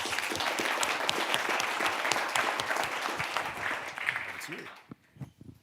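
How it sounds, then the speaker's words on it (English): Audience applause at a youth entrepreneurship and impact innovation event, steady, full clapping from a crowd lasting about five seconds before tapering off, with a voice near the end. "a big round of applause for everybody for great ideas"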